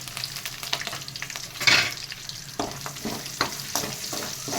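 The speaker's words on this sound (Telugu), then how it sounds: "ఉల్లిపాయ, కరివేపాకు కూడా ఇవి బాగా ఫ్రై చేసుకుందాం." Onion, curry leaves, a piece of cinnamon and a bay leaf fry in hot oil, a close crackling sizzle with intermittent stirring scrapes and a sharp pop near the start.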